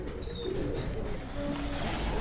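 Pigeons in Rza's flock give soft, repeated cooing calls close by, over a steady low hum of background noise.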